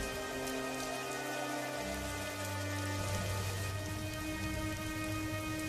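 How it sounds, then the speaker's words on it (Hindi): Heavy rain pours down in a dense, steady hiss on an animated village scene, with deep thunder rumbling low beneath it and a sustained musical drone running throughout. "देखते ही देखते भयंकर बारिश शुरू हो जाती है"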